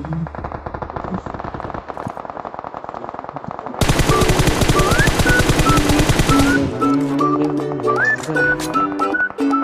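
Gunfire rings out in a foggy video game battle: scattered shots, then a long, loud, rapid automatic burst, followed by more sporadic firing.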